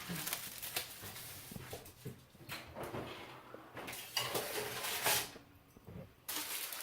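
Metal baking pans of honey BBQ chicken wings clatter and scrape with a few bumps and a door-like oven rack slide, moderately close, amid a noisy kitchen background.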